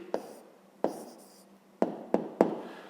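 Pen writing an answer on paper, a few separate quiet scratchy strokes with small taps as the tip meets the page, close and soft with pauses between them.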